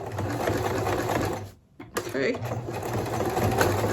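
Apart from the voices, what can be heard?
sewing machine zigzag stitching fabric edge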